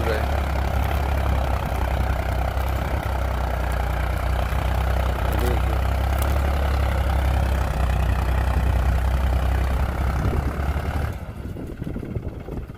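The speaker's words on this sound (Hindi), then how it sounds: "ये ट्रैक्टर है" A small Euro 47 Supermaxx tractor pulls a 3-disc plough through a wheat field, its engine holding a loud, steady drone with a low rumble before it suddenly drops away near the end.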